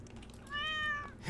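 A single drawn-out cat meow from the video game Stardew Valley rises clearly in the middle of the clip and fades out, with a quiet game backdrop around it.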